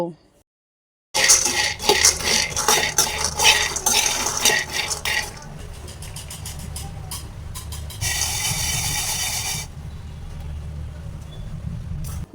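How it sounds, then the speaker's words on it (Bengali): After a moment of silence, a dry rattling and scraping as peanuts are stirred and tossed in a hot pan, continuing steadily. "বিস্কুট বানানোর জন্য প্রথমে আমি বাদামগুলো ভালোভাবে ভেজে নেব।"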